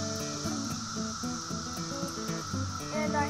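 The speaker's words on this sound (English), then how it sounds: "Tree of cicadas." Brood II periodical cicadas in a tree give a steady, high-pitched droning buzz that holds faintly in the background throughout, with some lower tonal sounds underneath.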